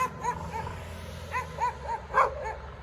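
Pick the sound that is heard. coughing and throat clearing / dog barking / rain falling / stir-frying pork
dog barking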